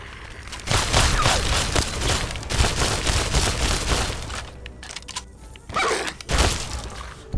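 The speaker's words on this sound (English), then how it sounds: "I think it's shotgun time." Shotgun fire in the video game Fallout, Tale of Two Wastelands mod, as a loud run of dense blasts and chaotic impacts over several seconds, easing briefly before one more burst near the end.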